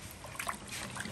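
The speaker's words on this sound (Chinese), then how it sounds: "洗一下香肠" Water runs and trickles as sausages are rinsed under it, a short, close splashing burst with small uneven gurgles.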